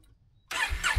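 A Honda CRF1000 Africa Twin motorcycle, parked for an oil and filter service, starting up: silence, then the starter and the engine catching at half a second into a loud, close rumble.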